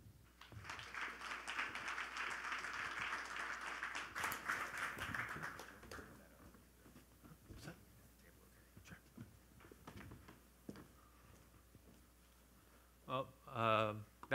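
An audience welcomes a speaker with warm applause, a dense clapping that lasts several seconds and then thins to scattered claps. A voice speaks briefly at the end.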